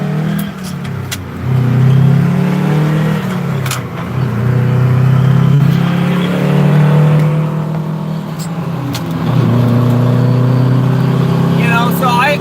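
Several trucks rolling along a freeway, a steady loud roar of traffic with engine swells, rising and falling as vehicles pass, with a voice talking over it.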